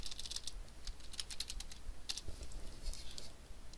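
Computer keyboard typing in quick, irregular bursts of light key clicks while entering a document title, close and fairly soft.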